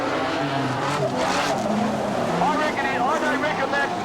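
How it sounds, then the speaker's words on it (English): Modified production race cars at speed at Charlton Raceway, engines droning steadily throughout with a loud, continuous roar while a commentator talks over the action. "But Mark Pagel and the John Deere car started to clear out."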